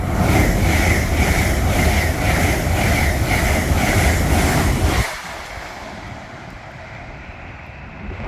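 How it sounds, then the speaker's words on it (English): An LNER Azuma Class 801 train passes at Hatfield on the East Coast Main Line, a loud, close rushing roar with rhythmic wheel beats for about five seconds before it drops away to a fainter receding rumble. "Coming through is a LNER Azuma Class 801."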